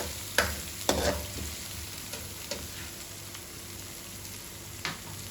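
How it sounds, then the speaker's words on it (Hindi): Mutton sizzles in a pan with ginger-garlic paste, a steady frying hiss, broken by a few sharp scraping stirs near the start and once more toward the end. "अदरक और लहसुन के पेस्ट को फ्राई करने के बाद इसमें मैं बकरे का गोश्त डाल दूँगा।"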